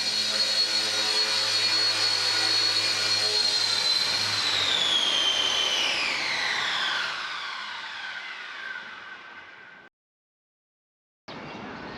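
A small RC helicopter whines loudly close by as it comes in to land, its pitch sliding down as the rotor slows; the sound cuts off briefly near the end and then resumes.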